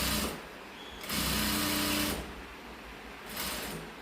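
A sewing machine stitches a Thamboolam gift bag in three separate bursts of rapid mechanical whirring, with short quieter pauses between runs.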